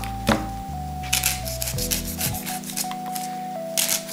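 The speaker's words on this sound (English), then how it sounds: "all we need to do is shave the husk off" Knife shaving the fibrous husk off a young coconut, a steady run of rough rubbing and scraping strokes close up, with a louder knock near the start and another near the end.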